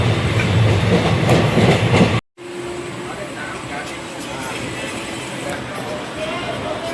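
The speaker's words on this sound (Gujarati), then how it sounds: "મારી ટ્રેન ઉપડી ગઈ છે" A moving passenger train rolls along with a loud, steady rumble and rhythmic wheel clatter close by, cut briefly by a moment of near silence before the same heavy running noise resumes, with faint voices mixed in.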